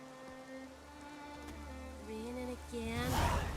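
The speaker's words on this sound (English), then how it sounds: "Raining again." Steady rain falls in The Witcher 3, a soft continuous hiss under game music with tonal lines, swelling louder near the end.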